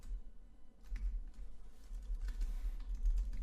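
A computer keyboard is typed on while writing programming code, with quick, close key clicks tapping in an uneven, steady rhythm and no talking.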